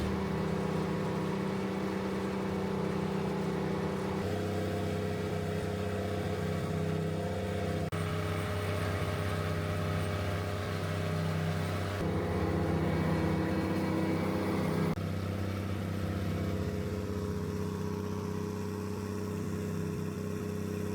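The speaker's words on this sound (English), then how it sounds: "we're going to get the tractor fired up" A tractor engine runs at a steady idle at a school grounds during mowing work, a continuous low droning hum with stable tone throughout, close and alone.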